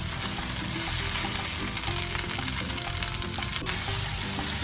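Puerto Rican fried rice (arroz chino) sizzles and fries steadily in a pan, a close, even crackle with no talking.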